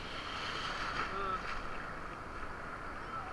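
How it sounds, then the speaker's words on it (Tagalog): Strong ocean waves at Bagasbas Beach make a steady, dense roar with wind buffeting the microphone, continuous throughout. "grabe ang lakas ng alon"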